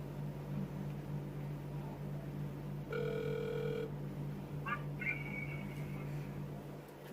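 A telephone ring tone comes through a phone held to a speaker, one steady ringing burst followed by shorter electronic tones over a faint background hum.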